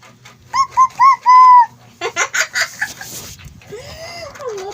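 A voice imitates a chicken in a children's animal-sounds game, giving a few short, bright clucks and a drawn-out call, followed by a quick run of choppy clucking notes and a sliding cry.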